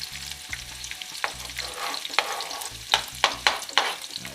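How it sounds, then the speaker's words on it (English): Onion and sweet pepper sautéing in a pot for Jamaican brown stew chicken, a steady close sizzle broken by repeated stirring scrapes and clinks that grow sharper toward the end, with no talking. "I make it go and saute like my onion and my sweet pepper"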